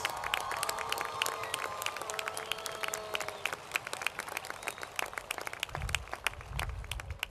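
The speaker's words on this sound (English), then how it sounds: "let's give them a big round of applause" Applause at a commencement ceremony, a large crowd clapping with crisp, scattered individual claps over a soft roar, fairly distant and sustained, with a couple of low thumps near the end.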